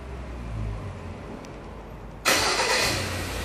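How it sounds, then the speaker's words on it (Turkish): A Ford Ranger engine cranks and fires up in a workshop, a sudden loud start breaking over quiet background noise and settling into a steady idle. "Çalıştırın aracı."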